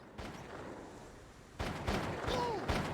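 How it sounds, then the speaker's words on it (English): Bursts of gunfire in the video game Jak 3 on PS5, distant volleys of shots that grow louder and denser in the second half, with a faint electronic whine over the top. "it sounds like war in here, though. You hear gunshots."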